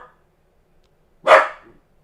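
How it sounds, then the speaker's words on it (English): A single sharp dog bark, close and loud, in an otherwise quiet room. "There's Max barking."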